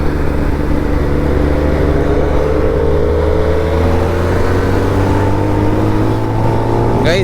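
Continuous engine roar from a group of superbikes, including ZX and V4 models, accelerating on a road ride, loud and steady with rising engine pitch, heard from close by without talk.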